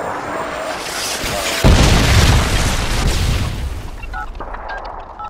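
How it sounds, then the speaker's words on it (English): A Predator missile strike in Modern Warfare 2 hardcore search and destroy on Karachi: a sudden loud, deep boom that rolls and rumbles for a couple of seconds over steady battlefield noise, then fades. "Predator missile inbound."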